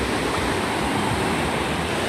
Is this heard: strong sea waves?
yes